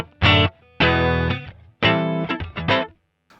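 A guitar played through a NUX MG-300's Deluxe Reverb amp emulation, with the reverb turned off and a Black 112 cabinet IR and U87 mic emulation, rings out in several separate strummed chords with short gaps and sharp stops.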